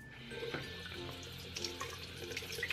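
Tap water runs steadily into a sink to rinse out a makeup sponge soaked with oil and foundation, a continuous close splashing wash with small bursts and no talk.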